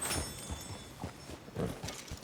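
Horses walk with hooves clip-clopping in Red Dead Redemption 2, a few soft, irregular hoof knocks over a quiet ambient bed with no talking.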